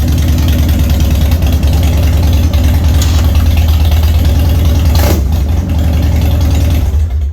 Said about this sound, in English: when you get on the road and you start cracking the throttle on this one, man, is that deep